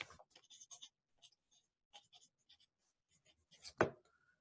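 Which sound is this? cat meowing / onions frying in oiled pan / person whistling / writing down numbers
writing down numbers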